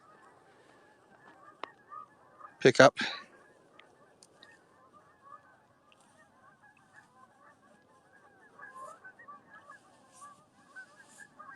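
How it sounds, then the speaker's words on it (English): Geese honk in open grassland at dusk, with horses nearby: a sharp, loud burst of calls stands out early, then fainter, scattered honks carry from a distance over a quiet outdoor background. "hearing some geese in the background"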